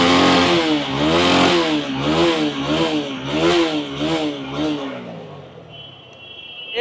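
A second-hand motorcycle with front ABS and a rear disc brake revs repeatedly at a used-bike shop in Bangladesh, its loud engine rising and falling in quick, rhythmic cycles up close before dropping away near the end.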